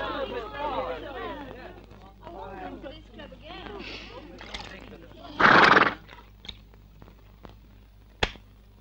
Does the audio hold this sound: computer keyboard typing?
no